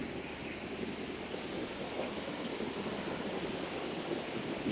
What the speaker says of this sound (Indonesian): Ini ada sungai yang mengalir.